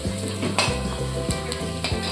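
Onions for pav bhaji sizzle in hot oil, browning in a pan, a steady close crackle with a spatula stirring in regular rhythmic strokes.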